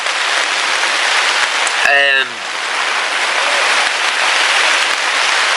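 Steady rain patters hard on a tent close by, a dense constant hiss, with a brief rising squeak partway through.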